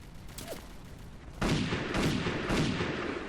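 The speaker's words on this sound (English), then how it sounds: "I need to shoot off the helmet first from a sniper rifle" Loud sniper rifle shots in the video game M.I.A.: Mission in Asia, a sharp blast followed by a sustained crackling roar and a couple of further reports.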